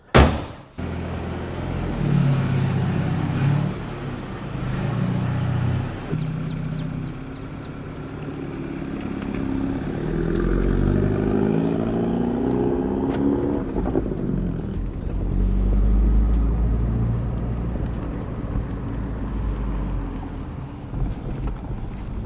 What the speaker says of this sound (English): Let's shut this hood and we'll get in the car and start driving.